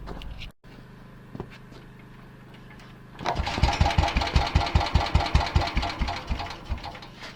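An old Staub tractor engine is cranked over in frosty weather, catches partway through, and settles into a loud, steady, thumping run with regular heavy pulses close by.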